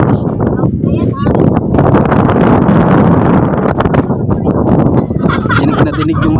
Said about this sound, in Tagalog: Dinig na dinig yung hangin, oh. Napakalakas.